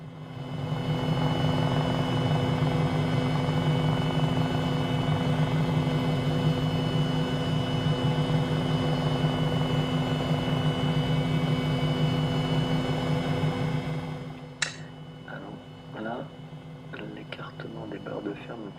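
An MD500E helicopter in Microsoft Flight Simulator holds a steady, loud rotor and turbine drone while descending toward a bridge, then the engine noise drops away abruptly, leaving faint scattered sounds.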